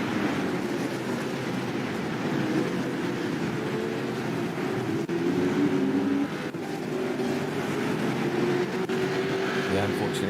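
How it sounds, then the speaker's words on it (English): 600-horsepower Holden V8 supercars roaring up a mountain in a racing video game, a dense, continuous engine drone with rising revs throughout, heard under ongoing commentary. "All the cars roaring up here."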